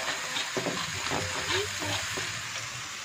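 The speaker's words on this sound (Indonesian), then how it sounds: "kalau sudah panas, masukkan, ditumis hingga bumbu ini menguning ya" Spice paste sautés in hot oil, a dense close sizzle with soft bumps and scraping of stirring, plus a faint brief tonal squeak in the middle; no speech.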